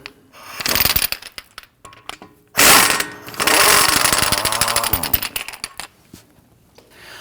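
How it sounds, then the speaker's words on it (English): A 15 millimeter bolt comes out of the steering knuckle of a 2009–2017 Volvo XC60 during front strut replacement, heard as close metallic clicks and ratcheting bursts, a sharp loud rattle of an impact tool, then trailing clinks. "So let's go ahead and remove this bolt. It's a 15 millimeter."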